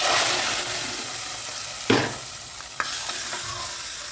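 Thick wheat rava payasam cooked with sago and raisins is poured and scraped from a pan into a serving vessel, giving soft wet stirring and sloshing sounds with two sharp clinks of a spoon against metal, close and unaccompanied by talk.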